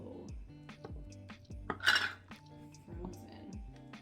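Frozen food is chopped on a board in a kitchen, a series of dull knife thumps at an uneven rhythm, close and moderately loud, with a brief clink of dishes in the middle and low background noise.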